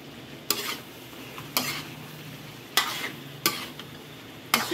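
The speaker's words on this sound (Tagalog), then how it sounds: "Pag sticky na, halo-haluin na siya para hindi siya dumikit." Pork belly barbecue is stirred in sticky sauce in a pan, five sharp scraping strokes at a steady pace over a soft sizzle, close and clear.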